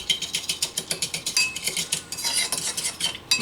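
Coleslaw being mixed with sugar and vinegar using a spoon, a rapid rhythmic series of scraping, clicking strokes against the bowl, close and steady with no talk.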